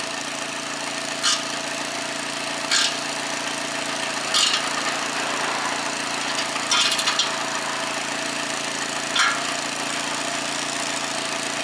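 Seat Cordoba engine idling with a small exhaust leak, a steady close mechanical drone with a few sharp ticking bursts at intervals; no talking.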